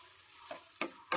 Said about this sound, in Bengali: আলুটা মশলার সাথে একটু মাখা মাখা করে তারপরে আমি ছোলার ডালটা দিয়ে দেবো।